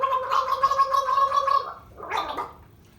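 Someone swishes and gargles a mouthful of liquid to rinse the palate between beer tastings. A steady bubbling gurgle runs close to the mic, stops, and then a shorter swish follows, with no talking.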